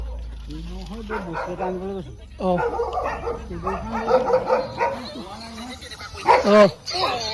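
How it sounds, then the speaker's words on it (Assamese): A dog barks and yelps repeatedly in an excited, uneven run of calls, fairly close, with voices talking at times underneath. "কুকুৰটা মানে বেয়া ভুকিছে"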